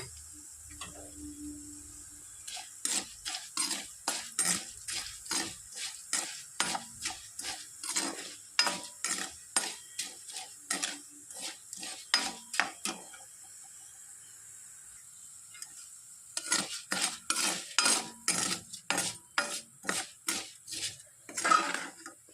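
Coriander and cumin seeds roasting in a pan, stirred with quick rhythmic scraping ticks in two runs separated by a short quiet pause, close and fairly faint without speech.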